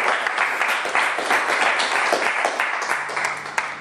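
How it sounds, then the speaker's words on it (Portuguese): A church congregation claps in praise during a sermon, a full, lively round of applause that gradually eases in intensity, with a brief sharp knock near the end. "Uma salva de palmas para o Senhor mais uma vez."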